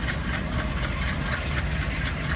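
A twin-unit diesel WDG3A locomotive idles on an Indian railway during decoupling, its heavy low engine throb steady and loud with a faint rhythmic pulse, close by.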